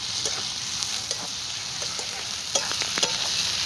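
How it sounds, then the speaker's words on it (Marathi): Ginger-garlic paste frying with browned onion in a pan gives a continuous hiss, with scattered sharp scrapes and clicks from stirring, a little louder toward the end. "जरा आलं लसूण टाकलं की चांगले थोडस परतून दिलं"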